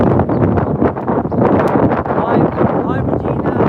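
Strong wind on a dog walk buffets the microphone with a steady, loud, rumbling roar that runs the whole time, with a person talking underneath.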